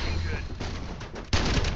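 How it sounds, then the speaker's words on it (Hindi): The Invader gun in the Farlight 84 video game fires continuously in rapid automatic bursts, loud and dense, with a sharper burst near the end and speech mixed underneath. "देखो इन्वेडर का फायर रेट पहले कैसा था अब कैसा हो गया है"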